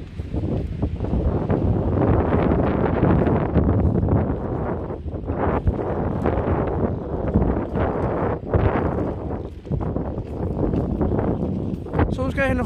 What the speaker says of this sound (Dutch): En het waait nog steeds best hard hoor.